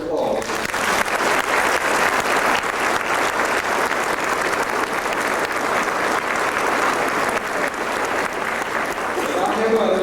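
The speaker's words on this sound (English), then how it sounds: "let's give them a round of applause." An audience at a 150th celebration event claps in steady, dense applause that fills the space at full volume for the whole stretch, with no voices standing out.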